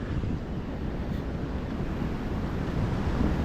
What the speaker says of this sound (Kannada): ಆ ನೀರು ಬೀಳೋದು ಇಲ್ಲಿ ಮೇಲೆ ನಿಂತಿದ್ರು ಮುಖಕ್ಕೆ ಹೊಡಿತಾ ಇದೆ